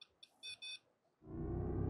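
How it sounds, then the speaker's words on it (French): Three short electronic beeps sound faintly in quick succession, followed by a burst of louder rustling or handling noise. "J'ai entendu un bip."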